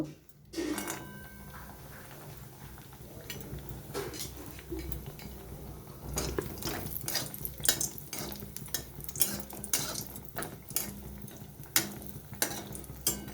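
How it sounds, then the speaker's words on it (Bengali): Oil crackles and sizzles steadily as lentil dumplings fry in a wok, with scattered sharp pops, spoon scrapes and clinks of metal throughout. "এবারে আমি তেলের মধ্যে বড়িটা ভেজে নেব"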